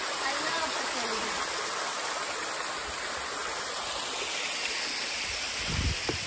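Rushing water from a stream sprays and hisses in a steady, broadband wash, continuous and fairly close, with a brief dull thump near the end.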